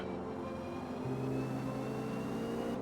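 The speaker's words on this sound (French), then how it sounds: "Vous voyez, elle accélère très fort." A car in Forza accelerates hard, its engine tone climbing in a smooth steady drone with a rising whine over a low rumble, continuous and close, no talk.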